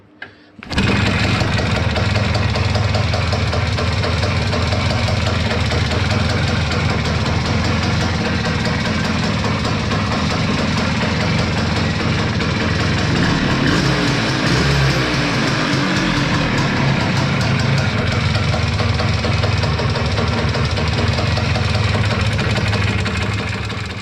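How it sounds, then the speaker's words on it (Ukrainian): A Voskhod motorcycle engine is kicked over by hand and catches almost at once, then idles loud and close with a steady rapid putter for the rest of the clip. "Запустимо восходи рукою."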